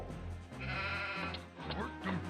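Sheep bleating in the Warcraft 2 real-time strategy game, a few short game-sound bleats over a busy, continuous background of game music and effects.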